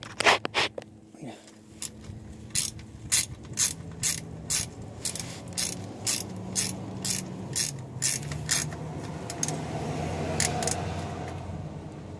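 A ratchet wrench tightens a bolt on an automatic transmission oil pan of a car, giving a run of sharp, evenly spaced clicks in several bursts, close up, with someone speaking Spanish briefly before and over a faint background hum.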